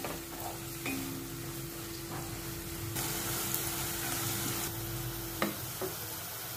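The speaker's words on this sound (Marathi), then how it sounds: "कांदा मऊ होई तोपर्यंत म्हणजे साधारण 3 ते 4 मिनिटं हाय फ्लेमवर परतून व्यवस्थित शिजवून घ्या" Chopped onion sautéed on high flame for a Marathi potato rassa curry gives a steady, close sizzle and hiss, with occasional spatula clinks and scrapes against the pan.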